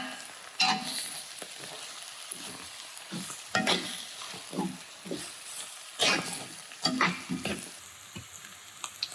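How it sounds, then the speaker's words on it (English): A spoon stirs garlic and bay leaves through a hot Cajun jambalaya pot, making irregular scraping strokes over a soft, steady sizzle, up close with no speech. "And about 2 tablespoons of garlic. Give it a good old-fashioned stir."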